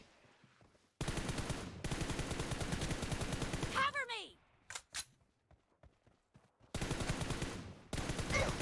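Rapid automatic gunfire bursts in PUBG Mobile, loud and sustained with brief gaps, followed by scattered single shots and a short ricochet-like whine before firing resumes.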